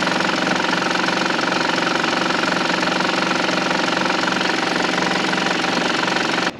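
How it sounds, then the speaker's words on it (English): A truck engine runs at a rough, low morning idle, suspected to have a fuel problem. It drones loud and steady with a knocking, uneven undertone and cuts off abruptly at the very end. "my truck low idles in the morning"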